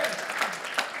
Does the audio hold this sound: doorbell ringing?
no